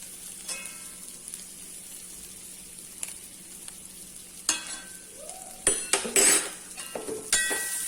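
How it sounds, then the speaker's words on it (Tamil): Jackfruit seeds tossed with masala and salt in a frying pan, a spoon scraping and stirring through a soft sizzle, with clustered metallic scrapes and clatters growing busier toward the end. "நல்லா கிளறி விடுவோம்"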